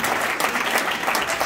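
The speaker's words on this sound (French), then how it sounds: "Now I say, stand up and clap." A church congregation claps and applauds together, dense steady clapping throughout, close and loud.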